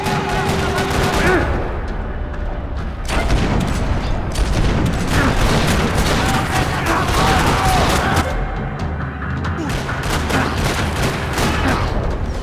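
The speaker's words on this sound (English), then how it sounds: "Another parking lot rattling with gunfire." Gunfire in a parking lot in the video game Max Payne 3, with loud, dense bursts of automatic fire and booming shots rattling almost continuously over a rumbling background.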